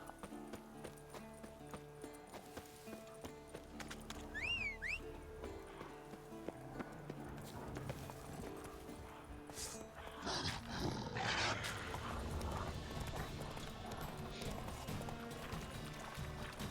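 Horse hooves clip-clop in The Witcher 3 on an Xbox Series S, a steady galloping rhythm beneath game music and ambient sound effects, with a brief whinny-like tone early on.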